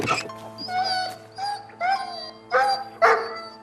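A dog locked in a cellar gives a run of whining, howl-like yelps and short barks in several separate bursts, fairly close and clear against a low steady hum.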